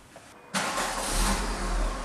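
A car engine starts up and then runs steadily as the car pulls away from a yard at night, loud and close after a brief quiet moment, with no talking.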